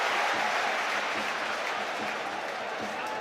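Football stadium crowd at a Hearts v Rosenborg Conference League qualifier roars and applauds continuously, a dense, loud wash of cheering that holds steady throughout without pause.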